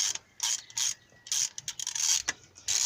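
A ratchet clicks in short, quick bursts while removing cam caps on a 2005 Nissan Sentra 2.5L engine, close and crisp with brief pauses between strokes.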